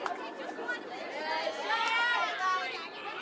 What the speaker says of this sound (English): you can hear the cheers from her bench applauding her efforts on the afternoon and the night now